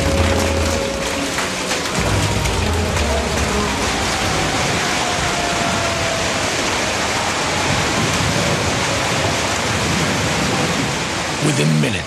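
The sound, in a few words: heavy storm with strong winds and hail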